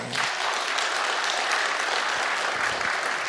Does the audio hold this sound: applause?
yes